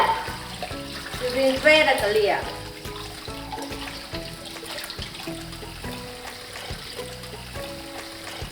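Cold tap water runs over vermicelli noodles being rinsed in a kitchen, a continuous splashing stream with clatter, heard under a person talking.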